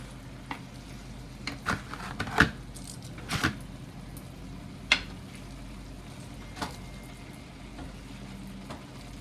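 Meat for shepherd's pie being stirred in a pan, a soft sizzle running under sharp scraping and clinking strokes of a utensil that come at irregular intervals.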